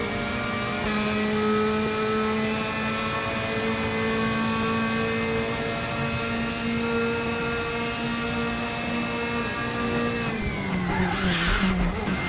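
A race car in the RaceRoom racing game drones along at high, steady revs, then its brakes lock up near the end with a short tire skid as the engine note drops.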